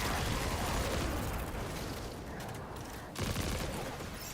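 Rapid auto rifle fire in the sci-fi shooter Destiny, dense continuous bursts of shots close and loud, briefly thinning before resuming at full intensity.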